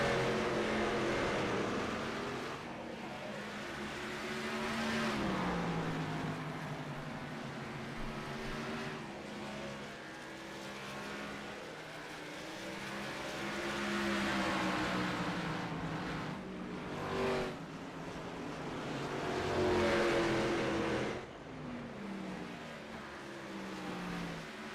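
Race cars of the Freedom Racing Series lapping North Wilkesboro Speedway, a continuous roar of engines rising and falling as the pack sweeps past, heard at a distance with no talk in the clip.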